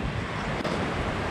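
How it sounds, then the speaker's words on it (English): A waterfall in a Pyrenees valley near Monte Perdido roars as a loud, steady, broadband rush, with heavy wind buffeting the microphone. "So this is my favorite waterfall"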